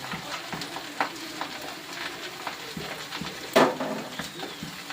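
Ghee sizzles in a pan of fried rice, a continuous close hiss broken by scraping stirs and one louder clatter near the end, with no voices.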